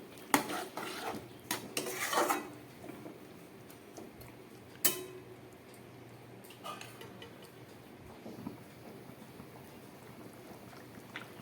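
A lid is set on a pot of vegetarian vegetable curry, with a few sharp metallic clinks and clatters early on, then quieter light kitchen rattles over a soft background, with no talking.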